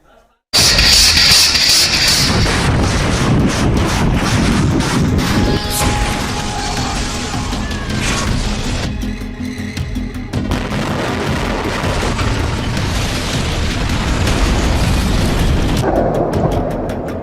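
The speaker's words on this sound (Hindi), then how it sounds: "जोरदार धमाका हुआ और पूरा का पूरा इलाका आग के गोले में बदल" A vacuum bomb explosion in north-eastern Ukraine erupts as a sustained, loud, roaring blast with crackling debris and rumbling that lasts throughout, with no voices heard.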